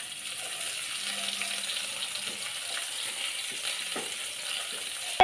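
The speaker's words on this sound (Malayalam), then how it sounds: "നമുക്ക് ഉള്ളി അതിലേക്ക് വറുത്തിടാം." Onions frying in a pressure cooker for kappa biryani, a steady close sizzle running throughout with light stirring clinks, no talking.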